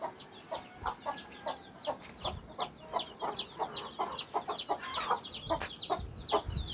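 A hen clucks steadily in short repeated calls, fairly close, with other birds chirping faintly in the background.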